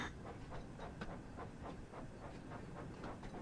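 Train running in Thomas & Friends Wonders of Sodor, a steady rhythmic clickety-clack of wheels with a hissing background, faint and continuous, no voices.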